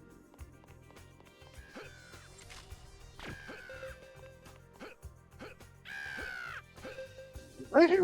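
A person mimics a cawing bird call, several short rising calls spread over a few seconds amid Toy Story 2 game sounds, with a louder burst of calls near the end.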